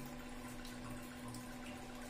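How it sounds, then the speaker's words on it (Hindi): Water rushes steadily through the solenoid valve of an RO water purifier under repair, a continuous close hiss of flow over a constant electrical hum. "ये देखिए गैप है और पानी यहां पे आना स्टार्ट हो गया।"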